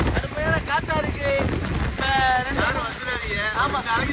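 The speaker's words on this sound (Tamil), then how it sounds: "பாம்பன் ராமேஸ்வரம் கடுமையான காத்து புயலா இருக்கு." Strong cyclone winds lash Pamban bridge near Rameswaram, roaring and buffeting the microphone in loud gusts while someone talks over it throughout.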